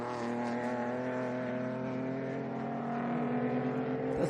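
An Alfa race car accelerates hard out of the final corner at the Sydney 300, its engine a loud, sustained harmonic roar that climbs in pitch through a gear change.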